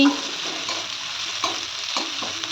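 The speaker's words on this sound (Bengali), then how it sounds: "এবার এর মধ্যে আমি অর্ধেকটা পেঁয়াজ কুচি দিয়ে দিলাম একটু নেড়ে নিচ্ছি" Chopped onion and green chilli stirred in a hot pan for vegetable soup, loud steady sizzling with repeated scraping strokes of the spatula every half second or so.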